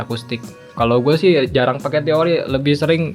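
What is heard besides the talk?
No everyday noise stands out behind the speech.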